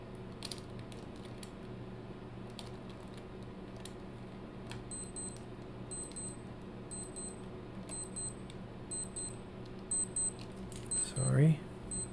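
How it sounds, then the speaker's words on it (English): A timer alarm sounds over a steady low hum, with repeated clusters of quick high electronic beeps in a regular pattern that grow slightly louder toward the end, followed by a brief voice. "Sorry, that's my timer."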